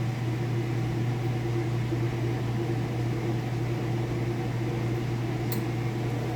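Kenmore Elite top-load washer drum spinning at full speed with the lid open, a steady loud hum and whir with constant mechanical noise and a brief high click near the end.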